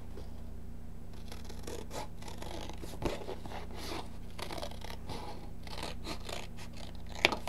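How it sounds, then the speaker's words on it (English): Scissors cut along a line through a paper file folder, making quiet, close, repeated snips and scratchy rustling over a faint background hum. "I'm just going to cut along that line."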